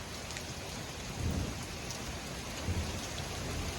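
Heavy rain pours steadily during a violent supercell severe thunderstorm, with low rumbles of thunder rolling under the constant hiss of the downpour.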